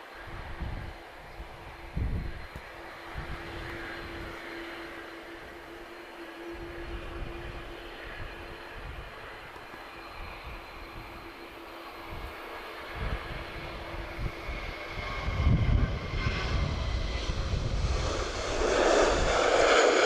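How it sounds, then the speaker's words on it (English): An Airbus A220 airliner rolling for takeoff at Lisbon Airport, its engines a steady, distant jet roar with a low rumble underneath that swells louder toward the end, with no voices. "she's rolling. Gonna get an A220 as well, guys, for the fans of the A220"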